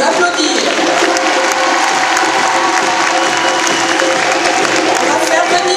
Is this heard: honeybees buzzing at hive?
no